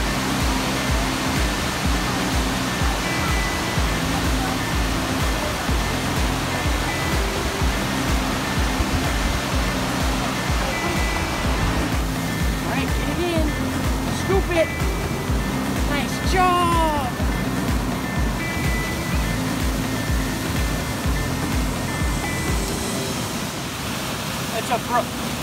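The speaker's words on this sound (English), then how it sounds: "It's a brook." Steady broadband rush of a brook flowing at Lassen, continuous and fairly loud throughout, with voices talking intermittently over the water.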